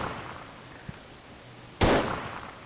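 A single loud gunshot blast in a video game, fired at gas tanks, preceded by a faint click and followed by a decaying rumble, with no talk.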